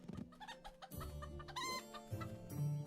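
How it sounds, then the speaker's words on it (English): Chickens cluck in a farm video game, several close, clear bursts of clucking and squawking in quick succession over a light musical background, with no talking. "chickens do indeed lay eggs."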